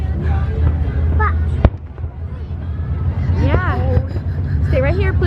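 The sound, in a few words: fireworks at Indian Lake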